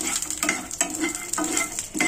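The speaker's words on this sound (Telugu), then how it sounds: "నిదారగా వేగాలి వేగాలండి పచ్చిగా ఉంటే బాగోవు" Boiled beetroot being stir-fried with peanuts in a pan, a steady close sizzle broken by a handful of regular scraping stirs of the spatula, with no talking.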